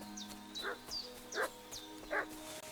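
Dog barking in the medieval video game Kingdom Come: Deliverance II, three separate bark-and-yelp bursts at a steady pace, moderately distant over a low ambient backdrop.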